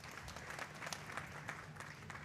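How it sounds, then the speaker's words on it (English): Audience at an awards ceremony applauds continuously, a faint, even patter of many hands clapping at a distance, steady from start to finish with no voices. "Ladies and gentlemen, a round of applause."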